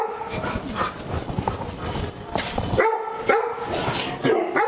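Several dogs bark at a pet boarding farm, a busy overlapping chorus of barks and yips, fairly close, with the sharpest bursts toward the end.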